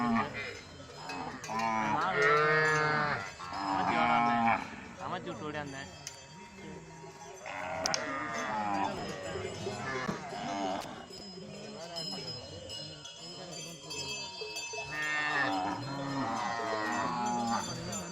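Cattle from a herded village drove in Theni district mooing repeatedly, loud and close, with cowbells clinking and people talking in between.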